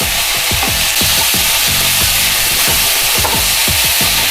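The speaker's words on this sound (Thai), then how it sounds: "เมื่อผัดทุกอย่างเข้ากันดีแล้ว" Pork belly stir-fried with fermented tofu in a pan: steady loud sizzling with a quick series of scraping, clacking spatula strokes in an even rhythm, no voices.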